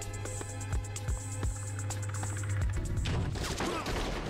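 Gunfire in the Bad Boys: Miami Takedown video game, with sharp repeated shots over a steady low game soundscape, then a denser noisy burst near the end.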